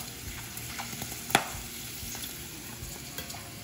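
Taco Bell-style cinnamon twists fry in oil that is too hot, a steady bubbling sizzle with one sharp clink of a utensil partway through, heard alone without speech.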